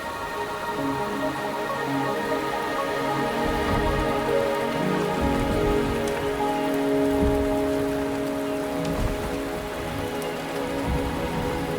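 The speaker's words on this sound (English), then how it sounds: "The rain is subsiding, and the sky will soon clear." Dense, continuous rain pours in Wuthering Waves, loud and even throughout, with soft musical tones running underneath.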